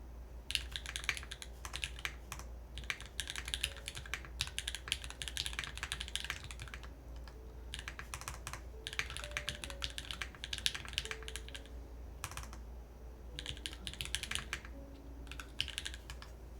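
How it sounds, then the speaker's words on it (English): A custom TakoTKLXT mechanical keyboard build is typed on in quick continuous bursts of clacking keystrokes, broken by short pauses, close and clear over a low steady hum. "nice typing."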